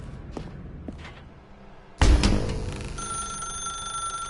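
A phone rings in The Stanley Parable video game after a quiet stretch with faint thuds: a sudden loud burst, then a sustained bright electronic tone that continues steadily to the end.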